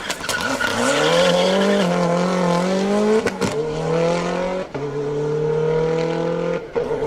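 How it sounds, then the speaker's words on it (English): A Mitsubishi Evo 10 rally car is thrown sideways around a hairpin on a Manx Rally stage, its engine revving hard and rising in pitch, dropping between gear changes, with tyre noise, close and loud throughout. "Throwing the big Mitsubishi Evo 10 sideways around the hairpin."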